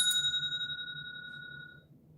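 A hand bell used as a patience bell, one clear metallic ding rung close by, its bright ringing tone fading away over about two seconds.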